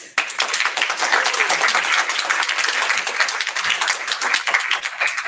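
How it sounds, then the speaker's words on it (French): An audience at a conference on animation applauds, bursting in abruptly and holding steady with dense, close clapping for several seconds, a few voices faintly underneath. "On les applaudit."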